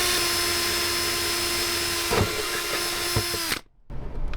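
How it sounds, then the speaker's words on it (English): A power drill runs continuously while boring a hole for a Racebred Components heel plate, a steady close whine with a few small catches before it stops abruptly and then starts again. "then I'll move up to an even larger drill bit"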